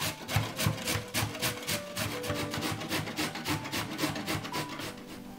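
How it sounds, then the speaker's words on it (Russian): Carrots rubbed on a medium grater in a kitchen, a continuous rhythmic rasping scrape with quick repeated strokes, close and steady. "Морковку натираем на средней терке."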